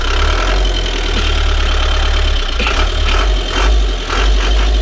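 An old engine idles right after its first start in ten years, a loud, close, steady rumble with a rough, knocking beat and a few uneven surges in the second half. No voices are heard.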